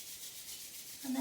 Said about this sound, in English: we'll take our hands together and just start to rub our palms for a moment